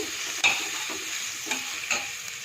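Ginger, green and red chilies, curry leaves and beetroot sauté in a pan with a soft steady sizzle, broken by a few scraping stirs and light clicks, close by and fairly quiet.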